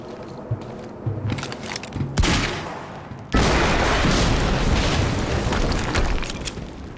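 Quantum Break gameplay: scattered gunshots and thuds build up, then a sudden loud explosion erupts and its roaring blast and debris fill the rest of the scene.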